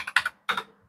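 Keys on an Akko mechanical keyboard are pressed in two quick clusters of crisp clicky strokes, close up, with no talking.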